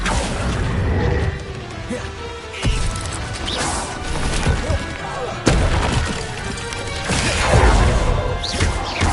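An Accio spell is cast during spell combat in the video game Hogwarts Legacy, amid loud, dense crashing whacks and booming impacts that recur every few seconds over a busy, noisy background.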